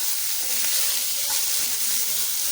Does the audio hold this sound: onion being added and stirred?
yes